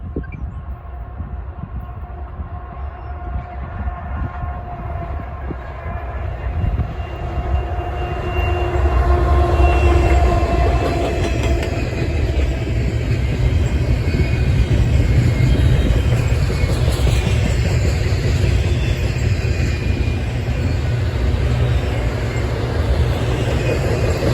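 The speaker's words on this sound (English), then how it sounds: "the first train that we would see would be NS 25N. Which is a daily intermodal train" Norfolk Southern NS 25N, a daily intermodal freight train, rolls past in Northern Indiana with a steady heavy rumble and wheel noise that swells louder partway through and stays strong, no voices.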